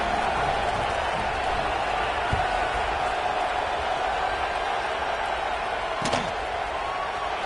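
Steady stadium crowd noise from a Madden football video game fills the whole stretch, a dense, constant roar of many voices with a couple of brief thumps standing out above it.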